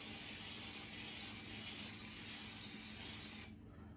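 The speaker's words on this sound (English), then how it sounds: "I gotta spray my pan." Cooking spray hissing steadily from a nearly empty can onto a pan, a continuous sputtering spray that cuts off abruptly just before the end.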